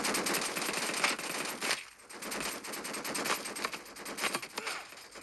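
Rapid automatic gunfire in the shooter game Battle Prime, dense continuous bursts with a brief lull mid-way, loud and close.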